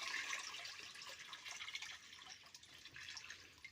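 Liquid rooting solution poured out of a bottle, a steady close trickle with small drips and splashes that runs the whole time without a break, no voices over it.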